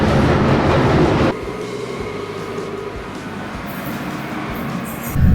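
Loud London Underground train roaring, then a steady rumble with wheels rattling on the rails and faint high squeals near the end.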